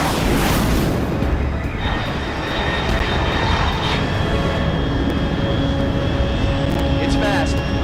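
A loud, roaring aircraft engine rumbles continuously overhead in Metal Gear Solid Delta: Snake Eater, steady and dense throughout, with faint tonal whines layered over the roar.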